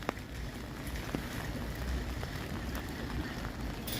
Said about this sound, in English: Rain across the pond as well.